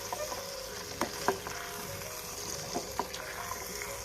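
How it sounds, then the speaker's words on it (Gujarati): Coated potatoes stirred and frying in a pan give a steady low sizzle, with a few soft clinks and scrapes of the stirring spoon scattered through it. "હવે જે આપણે બટેટા છે કોટ કરેલા એ બટેટાને એમાં એડ કરવાના છે અને બધા જ બટેટાને આમાં સારી રીતે મિક્સ કરી દઈશું"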